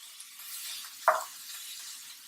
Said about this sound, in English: So I want to break it up with my wooden spoon.